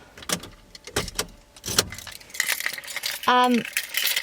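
A set of car keys on a designer keyring with an initials charm jangles in hand, sharp metallic clinks in several bursts up close, followed by a brief whirring mechanical tone.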